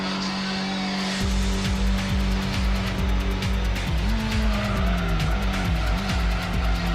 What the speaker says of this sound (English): Ooh, a little drift in.